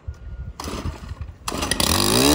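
A string line trimmer cutting grass along an edge at a spring landscaping job sputters, then its motor spins up into a rising, buzzing whine that grows louder and steadier, close by with no talking.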